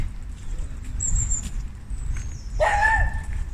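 A dog gives a short whimpering yip and then a louder bark-like call outdoors during a morning walk, set against a low steady background rumble.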